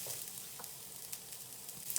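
Chorizo and garlic with onions frying in a pan, making a steady, quiet sizzle with a soft crackle throughout and no voices.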